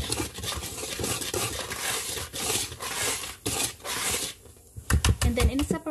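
A spoon rubs and scrapes around a bowl while flan ingredients are stirred, producing rhythmic gritty swishes close up, followed by a few softer taps and knocks.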